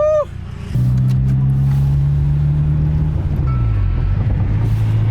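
A BMW E30 M3 at a BMW club event pulls away after a brief tone, its engine note climbing and holding steady, then dipping as it shifts, loud and close under constant road and wind roar.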